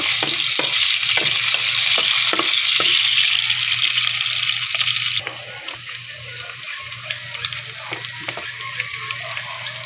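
Vegetables with garlic, onion and tomato hit hot oil for a mung bean stew, a steady broadband sizzle with scattered stirring clicks that drops to a quieter fry halfway through.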